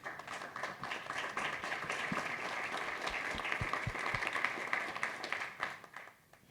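Applause from an audience at a panel session, dense and sustained clapping with a few sharper individual claps nearby, tapering off at the end.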